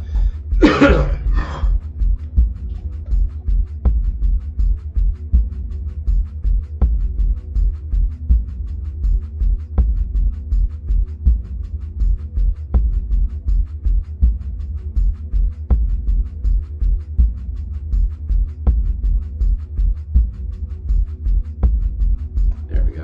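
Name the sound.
coughing fit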